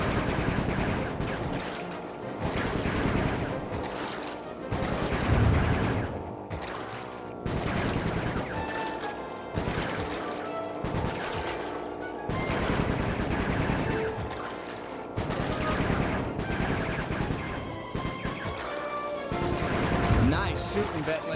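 Gunfire in the video game Sly 3: Honor Among Thieves, a steady run of loud, dense shots and blasts with crashing impacts, layered over a game soundtrack.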